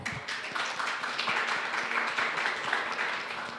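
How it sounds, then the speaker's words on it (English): Conference audience at a crypto event claps in a moderate, scattered round of applause, fairly quiet and distant, holding steady for a few seconds. "So, round of applause."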